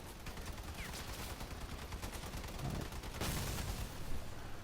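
Rapid bursts of vehicle-mounted gunfire from the combat game Crossout rattle on continuously, with dense overlapping shots and a louder surge of fire toward the end.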